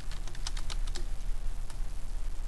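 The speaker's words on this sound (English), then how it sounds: "you can go ahead and type font" Quick taps on a computer keyboard while HTML code is entered, a rapid run of light clicks early on that thins into sparse keystrokes, close and fairly soft.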